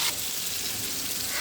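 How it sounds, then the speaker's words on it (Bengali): Salt-rubbed meat frying lightly in a pan, giving a steady, close, soft hiss and sizzle throughout with no pauses and no talking. "এবারে আমি এর মধ্যে দিয়ে দেব লবণ দিয়ে মাখিয়ে রাখা মাংসগুলো। দিয়ে এটা আমি হালকা করে ভেজে নেব।"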